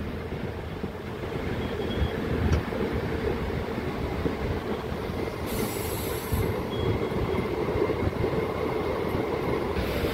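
A DEMU local train pulls out of Gajwel railway station, heard from inside with a steady, loud rumble of wheels and a constant roar on the rails, plus faint squeals and clicks, and no talking.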